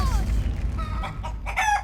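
A rooster crows on a comedy stage set, a short loud call with rising, wavering tones over a heavy low background rumble.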